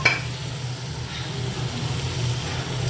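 Paneer fries over low heat in a pan until golden brown on both sides, for a paneer, corn and capsicum curry. A steady, close hiss of sizzling oil goes on, with light stirring at the start.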